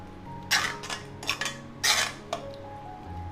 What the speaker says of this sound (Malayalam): മിക്സ് ചെയ്യുക.